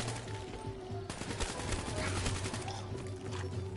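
Rapid bursts of KN-44 assault rifle fire crackle in a video game, a sharp shot followed by a dense, fast run of shots, fairly quiet overall against background game noise.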